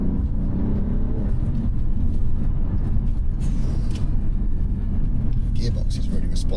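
Engine of a 2023 Alfa Romeo Giulia Quadrifoglio being driven hard on a race track, a steady loud low rumble with gear changes, with someone talking over it throughout.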